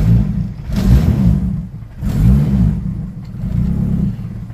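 A Honda EK hatchback engine revs up twice in close succession, then a third rise follows, each a loud, near rumbling surge that swells and falls away.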